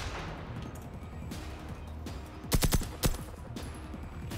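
A few sharp gunshots from a firearm in the video game Generation Zero ring out close and loud in a quick cluster, then one more shot, over a steady low background rumble.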